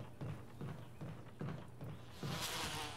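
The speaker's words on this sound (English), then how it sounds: "Maybe I'll shoot the bees." Swarming bees buzz in the Resident Evil Remake game, a steady, close insect drone with rhythmic swells roughly every half second that grows brighter and louder toward the end, with no talk over it.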